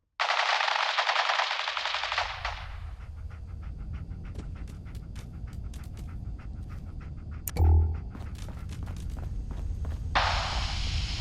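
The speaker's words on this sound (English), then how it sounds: "Men, open fire!" Automatic gunfire from the Fallout 4 video game rattles in a dense, loud burst at the start, then sparser distant shots, a thud and scattered clatter follow before another sustained burst closes the sequence.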